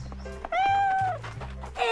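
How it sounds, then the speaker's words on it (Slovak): A cat on a farm gives a couple of short, high meows close by, while a low hum and some background voices sit beneath. "It's so cute. A cat."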